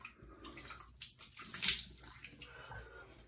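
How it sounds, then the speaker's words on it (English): Warm tap water runs and splashes into a basin during a shaving rinse, soft uneven trickling with a brief louder splash midway, close and fairly quiet. "Nice warm water rinse."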